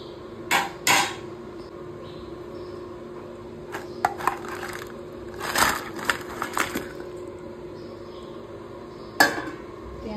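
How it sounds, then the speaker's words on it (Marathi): Crabs dropped into a metal cooking pot for an Agri Koli crab masala, giving several sharp clattering knocks and shell clunks in irregular bursts, close and fairly loud over a quiet background hum. "चला आता चिंबोऱ्या टाकते."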